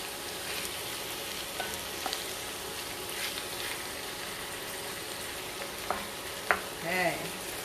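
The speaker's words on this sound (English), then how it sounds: "Give it a little stir." Shrimp and their shells frying in a pan for Portuguese shrimp Mozambique, giving a steady, moderately loud sizzle throughout, with a few clinks of utensils against the pan near the end.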